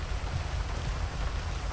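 Steady, even rain in the GTA 5 video game hisses as a constant broadband wash with a low rumble underneath, and no one speaks over it.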